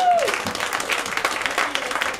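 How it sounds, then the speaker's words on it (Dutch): Audience applause for the four VJs at a Meet My Street community event in Crooswijk, a brief round of clapping of moderate loudness that fades slightly, with a voice at the start. "zou ik graag even een groot applaus willen hebben voor de vier VJ's die hier zitten"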